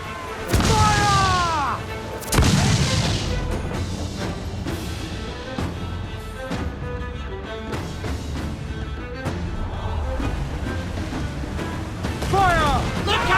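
Ship cannon fire in Assassin's Creed Black Flag, deep booming blasts at irregular intervals, heavy and close, mixed with shouted crew voices and continuous battle noise.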